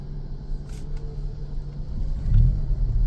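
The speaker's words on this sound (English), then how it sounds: "and then you hear that very throaty 4-cylinder" A 2025 Toyota 4Runner TRD Pro hybrid rolls along at low speed, quiet at first, until its throaty four-cylinder engine kicks on near the end as a deeper, louder rumble.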